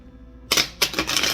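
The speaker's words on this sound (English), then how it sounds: "I need to shuffle a little bit more and mix it up a little bit" Two quick bursts of crisp riffling as tarot cards are shuffled close up, with a brief pause between them.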